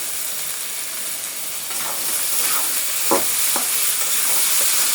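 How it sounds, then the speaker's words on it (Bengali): Prawns and potatoes frying in a pan give a continuous bright sizzle, with a few sharp scraping stirs partway through and the hiss slowly growing louder. "আমার চিংড়ি মাছটা মোটামুটি ভাজি ভাজি করে নিছি এখন আলু দিয়ে দেবো"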